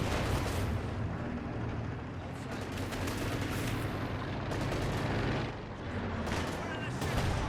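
Sustained gunfire and artillery bursts from a Company of Heroes 2 1v1 match, a dense continuous battle din with a commentator talking over it throughout.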